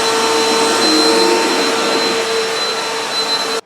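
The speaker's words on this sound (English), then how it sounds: "Am I not allowed to vacuum my carpet?" A vacuum cleaner runs steadily on carpet, loud and close, with a constant motor whine and airy rush that hold for several seconds before cutting off abruptly.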